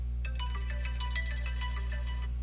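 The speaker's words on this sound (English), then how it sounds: "Got a phone call" A phone ringtone announcing an incoming call, a bright repeating electronic melody sounding fairly close over a steady low hum, with no talking.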